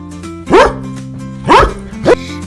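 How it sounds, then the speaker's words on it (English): A dog gives three loud, close barks, the first two spaced about a second apart and a quicker third, each a sharp rising then falling woof with no voices. "This is a dog and a puppy."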